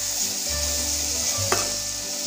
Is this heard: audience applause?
no